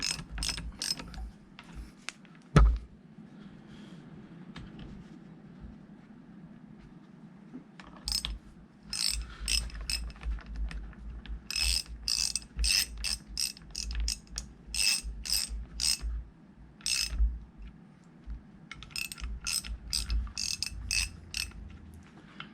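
A ratchet clicks in quick bursts while tightening bolts to close the gap on a hydraulic pump being installed on a Farmall 460 tractor, with a metallic clunk early on and long quiet stretches between the bursts.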